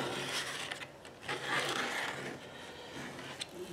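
A razor blade held almost flat is pulled along the edge of hydroponic garden material, giving a series of dry scraping, rubbing strokes at close range, with no talking.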